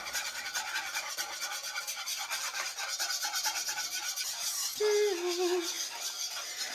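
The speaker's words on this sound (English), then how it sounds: "now I need to whisk constantly" Continuous scraping and rasping of a whisk working macaron mixture in a bowl, steady and close for several seconds, with a brief higher tonal squeak near the end.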